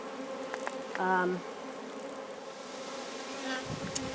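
Honey bees drone in a continuous close buzz at a mountain beehive that has had mite trouble, with a few louder passes of individual bees near the hive.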